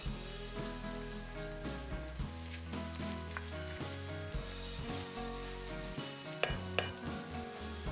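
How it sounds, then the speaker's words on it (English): Garlic and onions sizzle in a pan for a chicken fricassee, a constant crackling fry with scattered sharp pops and spits, close and moderately quiet. "Add the garlic and fry for a couple of minutes."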